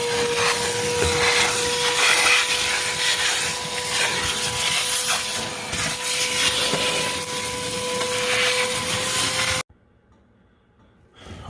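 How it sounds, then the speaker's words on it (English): A shop vac cleans the raised cab of a tractor with a steady, loud whining roar, then cuts off abruptly, leaving near silence. "This tractor is a little bit more difficult to shop vac because the cab sits up so much higher."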